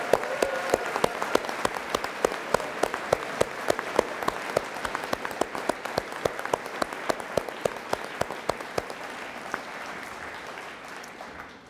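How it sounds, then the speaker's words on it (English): Sustained audience applause for firefighter training academy graduates at their graduation, a steady bed of many hands with distinct sharper claps standing out, continuing for about twelve seconds before easing off. "let's give them a big round of applause"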